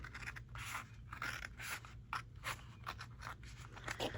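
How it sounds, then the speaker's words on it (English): Quiet, close scissor snips and crisp paper scraping in a loose, repeated rhythm, with a faint low hum underneath. "So I'm going to give this a little trim."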